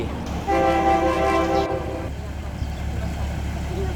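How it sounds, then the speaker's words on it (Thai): A train horn blares loudly for about a second and a half over the steady rumble of a train passing Khlong Sip Kao station, Thailand, then the rolling rail noise continues. "เจอรถไฟแล้วนะครับ รถไฟ"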